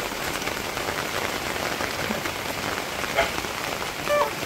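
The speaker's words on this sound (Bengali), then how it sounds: "খুব বৃষ্টি, দেখেন না যে বাড়ি ঘরের অবস্থা, অনেক বৃষ্টি হইতেছে" Heavy monsoon rain falls around village houses, a constant close hiss of drops on surfaces with a couple of faint brief sounds beneath it.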